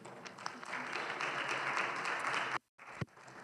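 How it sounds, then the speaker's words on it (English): A burst of applause from a crowd, sustained clapping that cuts off abruptly near the end, followed by a faint thump. "give a big round of applause to Katelynn"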